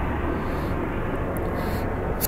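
Airplane flying over near Wrocław airport: a steady, loud broadband roar holds constant throughout without any talk.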